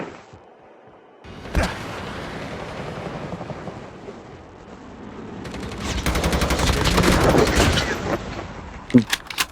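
Gunfire in a Call of Duty Mobile battle royale match: a sharp shot, then a steady rumble, building into a dense, loud stretch of rapid automatic fire with a final close burst.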